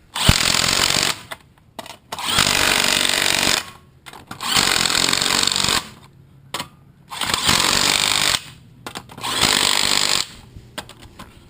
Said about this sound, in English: Try to tighten the lug nuts with a wrench